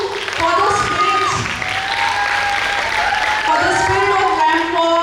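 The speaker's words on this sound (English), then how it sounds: "a big round of applause should go to each one of you for the spirit" Loud, sustained crowd applause at a girls' hostel freshers' day ramp walk at BSSS College, with voices calling and cheering over the continuous clapping throughout.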